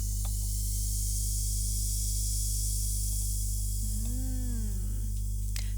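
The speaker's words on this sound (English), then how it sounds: "Can you see it all fizzing?" Vinegar fizzing in a chemical reaction for a classroom science experiment, giving a steady soft hiss that runs the whole time over a low electrical hum, with a brief squeaky tone near the end.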